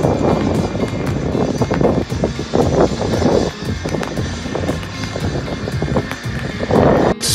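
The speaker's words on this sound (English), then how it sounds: "This beauty, the light combat helicopter surely teases as it goes away." An Indian-built HAL light combat helicopter roars overhead with a throbbing, gusty engine noise and wind buffeting the microphone, staying loud and fairly near throughout.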